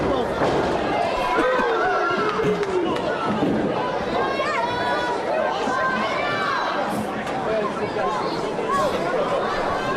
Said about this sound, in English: I hear a smattering of fans in the crowd saying more Kevin Matthews